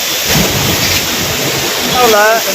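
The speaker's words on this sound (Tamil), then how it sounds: "சரியான மழை" Heavy rain pours steadily on a mountain road along the Sabarimala pilgrimage route, a dense, loud hiss throughout, with a brief faint warbling sound near the end.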